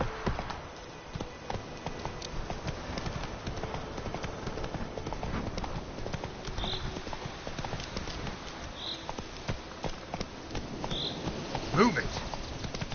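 The horse Roach trots in a video game, hooves clip-clopping in a steady rhythm under a constant buzzing, insect-like ambience, with a brief sharper call near the end.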